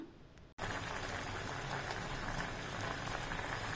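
A thick sundakkai (turkey berry) curry bubbles and simmers steadily in a pot at close range, with dense popping and spattering after a brief cut near the start.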